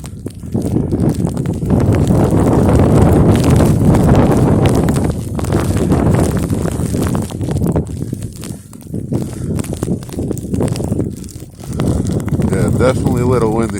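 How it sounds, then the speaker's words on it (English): Gusty wind roars and buffets the microphone in surges during a Connecticut nor'easter snowstorm at night, with a voice talking briefly over it. "definitely a little windy for the snow."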